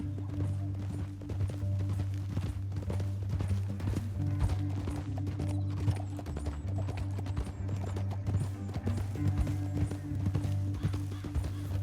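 Horse hooves clip-clop steadily and loudly in the video game Red Dead Redemption 2, as riders move through a canyon. The rhythmic hoofbeats run the whole time over a low droning background.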